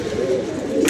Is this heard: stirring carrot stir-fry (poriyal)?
no